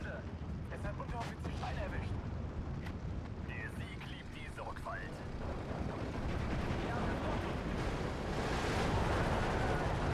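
Bombs exploding in Steel Division 2 give a dense, continuous rumble of blasts that swells louder toward the end. Brief warbling tones and a voice come through early on.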